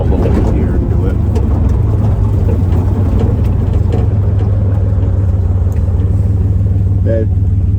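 A Buick Grand National engine under hard throttle on a test drive, a loud steady low engine drone close by with someone talking over it.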